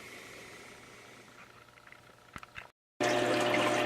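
Water runs into the bowl of a gold prospecting clean-up machine, a steady faint trickle that cuts out briefly, then returns as a louder rushing flow.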